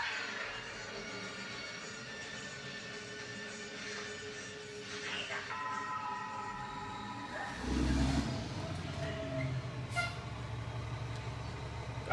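A garbage truck pulls in on a street at 2:30 at night, its engine droning and rising as it moves closer, with a louder surge and a brief higher tone partway through.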